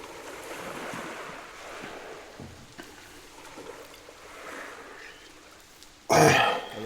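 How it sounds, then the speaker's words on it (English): Loud ambient ocean surf rolls as a steady, noisy wash through a tabletop Dungeons & Dragons session, swelling into a sudden louder burst near the end. "Oh, those waves are loud."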